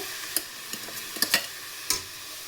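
A spiced avarekai (hyacinth bean) curry is stirred in a frying pan, a steady sizzle under a few sharp scrapes and clacks of the spoon against the pan, close and clear with no voices.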